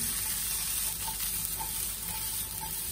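Pork chop frying in oil in a pan, a steady close sizzle and crackle running throughout with no voices.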